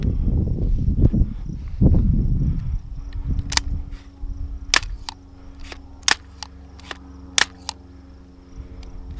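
Several sharp rifle shots from an FN TAC3 AR-15 at a shooting range, spaced irregularly after a few seconds of rumbling handling noise, loud and close, each crack short and echoing briefly.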